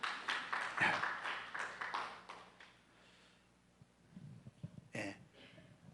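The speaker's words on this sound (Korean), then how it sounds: "아, 박수." A church congregation gives a short round of clapping that fades out, followed by faint coughs, throat clearing and shuffling at a quiet distance.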